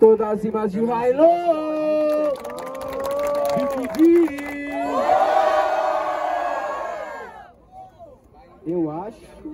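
A rap battle crowd roars and cheers for a rapper, a loud swelling wave of voices that follows an emcee shouting over a microphone and then fades out.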